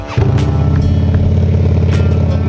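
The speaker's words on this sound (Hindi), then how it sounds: "अभी बाइक को कोल्ड स्टार्ट कर रहे हैं क्योंकि बहुत ठंड है ना" A motorcycle engine is cold-started in freezing weather on a Leh-Ladakh ride, catching after a brief crank and settling into a loud, steady, throbbing idle close by, with light mechanical clatter and no talk.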